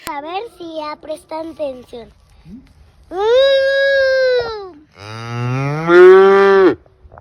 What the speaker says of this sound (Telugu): మైకు పెట్టగానే అంబా అంటూ గట్టిగా అరుస్తుంది